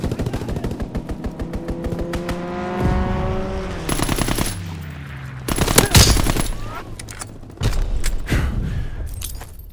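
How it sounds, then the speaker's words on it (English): Aircraft strafing fire in the Call of Duty WWII game, with rapid bursts of machine-gun rounds and heavy impacts over a droning engine tone, loud and dense through the middle, alongside sweeping engine pitch changes. "Fighter pilot inbound. Strafing the target."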